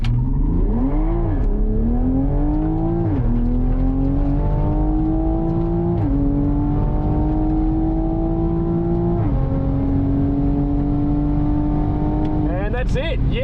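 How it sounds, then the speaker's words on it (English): A tuned MkV Toyota Supra accelerates hard on a timed drag strip run at Cootamundra, its engine roaring loudly and climbing through several gears with distinct pitch drops at each shift, voices faintly underneath. "now I'm going to let Susie do her first ever timed drag run at Cootamundra"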